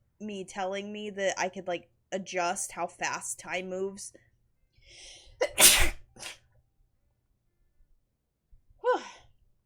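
A single sharp sneeze bursts out loud and close, following a stretch of casual talk and a pause, with a brief exhalation after it.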